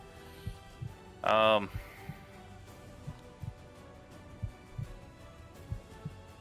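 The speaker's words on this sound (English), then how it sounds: "you can hear the overarching sounds of the heartbeat coming from within the forge" Within a forge in a Dungeons & Dragons session, a slow, steady heartbeat sound effect thumps at regular intervals, low and soft, beneath a quiet room tone, with a short burst of sound early on.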